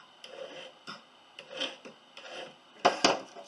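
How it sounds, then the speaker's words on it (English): A coarse file rasps against a silver ring in short, uneven strokes, close and moderately loud, with a couple of harder scrapes toward the end. "Use a coarse file to take those out first."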